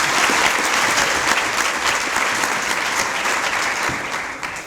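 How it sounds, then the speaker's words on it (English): Steady, loud applause from a seated audience at a university law moot competition ceremony, many hands clapping continuously and evenly for several seconds before fading slightly, with no speech over it. "Congratulations, a round of applause."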